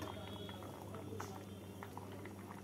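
Dal simmering with turmeric and green chillies in a pot, a steady low bubbling and faint popping that runs the whole time, quiet and close, with no talk over it.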